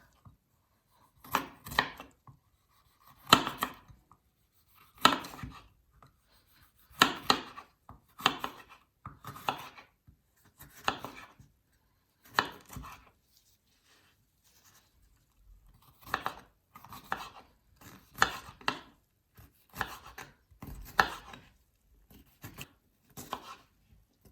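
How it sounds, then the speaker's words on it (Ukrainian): A knife chops a bell pepper into cubes steadily on a cutting board, quick bursts of crisp taps separated by short pauses, close and clear with no talking. "Тепер будемо нарізати перець."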